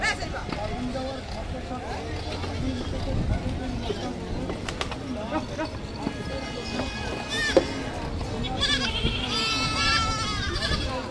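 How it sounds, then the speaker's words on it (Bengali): Goats bleat repeatedly amid a busy cattle market at Hazratpur Paragram, several calls near and far over constant crowd chatter and nearby voices. "এক ঝাঁক ছাগল চলে এসেছে"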